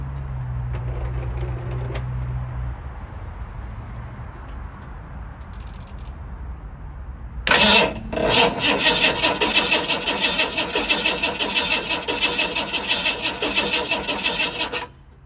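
An engine is cranked over during testing, its rough, churning turnover starting abruptly and running loud and near with a dense rattling texture after a stretch of low background rumble.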